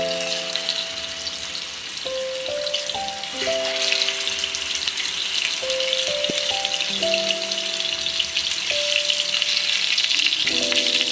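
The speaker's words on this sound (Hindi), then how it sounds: "कबाबों को शैलो फ्राई कर लेंगे।" Raw-meat kebabs shallow fry in hot oil over low heat, giving a steady close sizzle and crackle throughout, while a melodic tone of sustained notes plays underneath.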